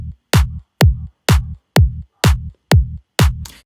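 Sampled claps layered with a punchy, bassy kick drum in an electronic dance track, hitting eight times in a steady, evenly spaced rhythm, loud and dry with no voices.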